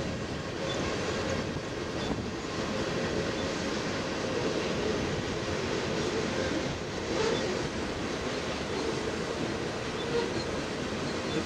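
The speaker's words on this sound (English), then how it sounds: "Train headed to the east, crossing this first bridge at" An eastbound freight train crosses a railroad bridge at 20th and Woolworth in Sioux Falls, with a constant rumble and rolling wheel noise heard from nearby and no talking.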